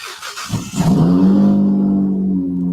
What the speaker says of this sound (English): It's my car starting up.